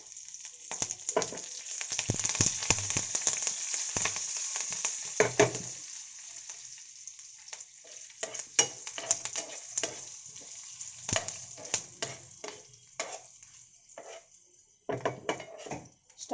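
Curry leaves and a pinch of asafoetida hit hot oil in a pan while making green guava chutney, giving a steady close sizzle broken by scrapes and clinks of a stirring spoon.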